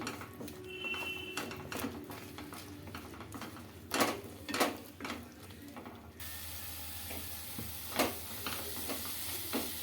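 Coconut khova mixture with chopped almonds stirred in a pan: repeated scraping and clattering strokes of a spoon against the pan with a soft sizzle underneath, close and continuous, a few louder scrapes standing out.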